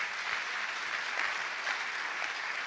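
Congregation at a church service applauding, a steady dense wash of many hands clapping together at even loudness from start to finish.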